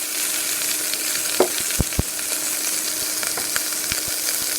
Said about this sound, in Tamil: நல்லா அதோட பச்சை வாசம் போகிற வரைக்கும் மட்டும் நம்ம நல்லா வணக்கிக்குவோம்